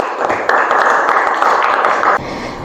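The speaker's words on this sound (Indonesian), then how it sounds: "Tepuk tangan untuk perwakilan kelompok 1" A classroom of students applauds a group 1 representative, a few seconds of dense, close clapping that starts abruptly and cuts off sharply, with no talking over it.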